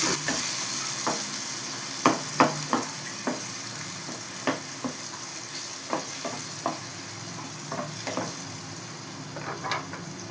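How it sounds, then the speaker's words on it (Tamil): Ground tomato puree from two tomatoes stirred into an egg curry base in a pan, a steady close sizzle punctuated by a regular series of sharp spoon knocks and scrapes against the pan over ten seconds, no voices. "ரெண்டு தக்காளி அரைச்சி வச்சுருக்கேன் அது ஊற்றலாம் கலக்கிடலாம் நல்லா கலக்கிடலாம்"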